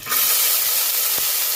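Chopped onion and curry leaves fry in a pan for a Bengal gram sambar, giving a steady, close hiss of sizzling oil with a faint stir partway through.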